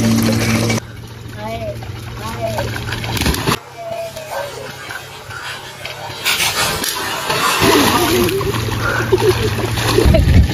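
Water splashes and gushes into a village swimming pool in hot weather, a continuous wet churning that rises toward the end, mixed with people talking nearby and other outdoor noise.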